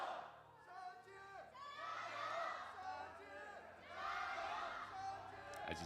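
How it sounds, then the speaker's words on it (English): Fans cheer and chatter in waves at an LPL League of Legends esports match, a crowd roar swelling twice and falling back, with scattered laughter and voices in the mix. "you hear the fans cheering"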